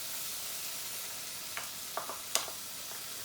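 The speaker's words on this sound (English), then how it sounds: "We want to cook our onion until it's soft and translucent." Finely chopped onion sizzling in melted butter in a skillet for mac and cheese, a soft steady hiss with a few light clicks of a utensil stirring, quiet and close with no talk.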